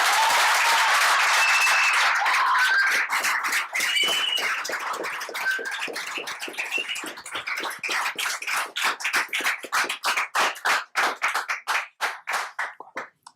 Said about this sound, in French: Alors, on va les applaudir